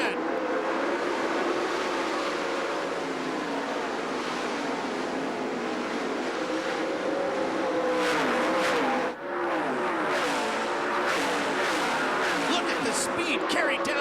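Sprint cars racing on the dirt oval at the 2004 Knoxville Nationals, a loud continuous roar of engines with rising revs and surges as the field passes, a crowd-like wash beneath and a commentator talking over it.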